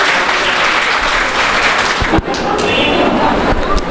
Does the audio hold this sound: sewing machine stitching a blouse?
no